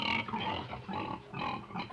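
A cartoon pig, called a devil pig, grunts and oinks in a Christmas kids' animation. The snorting runs continuously for about two seconds, close and fairly loud.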